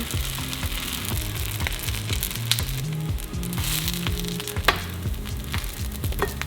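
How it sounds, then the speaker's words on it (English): Bread toasting in a pan over a steady frying sizzle, with faint clicks and light knocks of handling throughout, close and moderately loud, no voices. "we're gonna toast our bread right on this pan"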